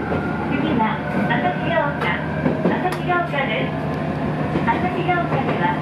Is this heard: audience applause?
no